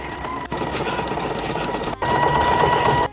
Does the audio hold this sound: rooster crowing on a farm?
no